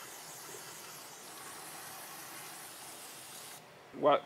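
Steady, even hiss of spray aimed into a Nissan 350Z differential to flush out oil, holding at moderate level for several seconds before cutting off, followed by a brief clunk.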